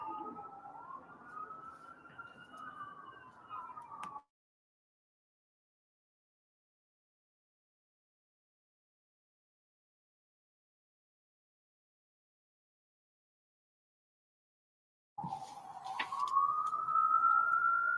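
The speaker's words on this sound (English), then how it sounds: "Some sirens." Sirens in a residential neighborhood, a wailing rising-and-falling emergency siren at moderate distance that fades out, followed by silence and then another siren swelling back in.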